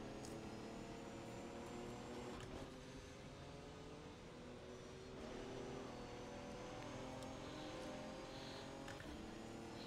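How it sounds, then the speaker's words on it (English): In the rFactor 2 racing simulator, a prototype-style racing car's engine drones and revs. Its pitch climbs and falls as the car accelerates and shifts, steady and fairly close throughout. "The sounds are interesting because it sounds more like a prototype. I don't know if this is a 4-cylinder car or something."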